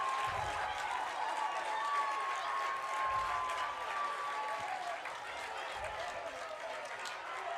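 A home crowd at a Neumann-Goretti high school baseball game, a 2024 PIAA 3A contest, roars after a bases-clearing double, keeping up a loud, steady wash of cheering with some clapping and scattered voices throughout.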